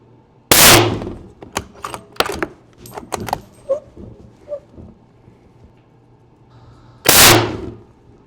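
Two loud, sharp shots from a budget long-range hunting rifle firing Federal ammunition, spaced several seconds apart outdoors, with clinks and metallic clatter from the rifle action in between.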